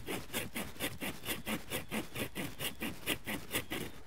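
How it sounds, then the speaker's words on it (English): A hand saw scores along a crack in a piece of wood outdoors. About a dozen steady back-and-forth rasping strokes come close up and loud, each with a gritty bite, in an even rhythm with no talk. "I'm going to use my saw now to just go along that crack and create a"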